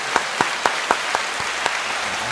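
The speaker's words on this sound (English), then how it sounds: "There's that applause." A short applause sound effect plays, with sparse, evenly spaced claps ringing out clearly, almost like single hand claps in a steady rhythm, with no voices.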